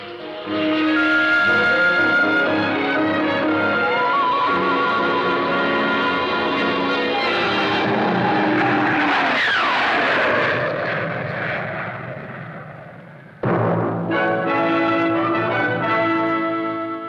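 Loud, sustained roar of a 1951 F-86 jet fighter with whining harmonic tones and a shifting pitch as it passes, briefly cutting out before resuming.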